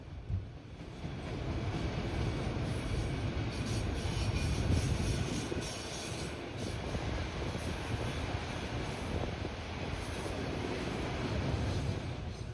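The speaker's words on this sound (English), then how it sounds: "These two trains passing is quite the good sign" A long, low rumble of two trains, including an autorack train, rolling past each other with steady rail noise and clatter, swelling and easing over time.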